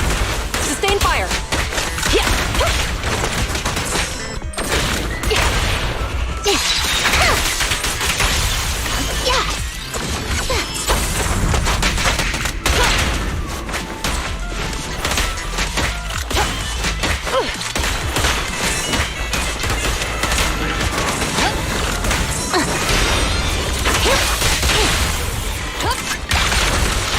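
Gunfire and combat in the video game Zenless Zone Zero, a loud, dense, continuous barrage of shots, crashes, whooshes and impacts over game music, with voices speaking at times.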